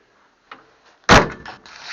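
A Morris Minor rear door under repair is pushed shut with one loud, close slam, preceded by faint handling clicks and followed by brief rattling settling noises.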